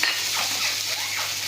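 Spice mix frying lightly in a pan at home, a close steady sizzle with soft stirring scrapes throughout.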